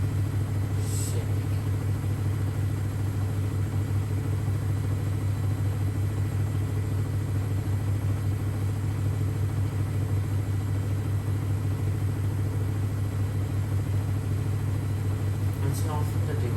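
A Samsung Series 5+ washing machine runs a hygiene steam 60 cycle with a shower curtain inside, reaching the end of the steam phase: a steady, loud low hum and rumble continues throughout, with faint brief higher ticks near the start and end.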